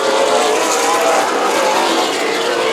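SPEARS Southwest Tour Series race cars compete at Stockton 99 Speedway, their engines making a loud, continuous roar with no break, close and without talk.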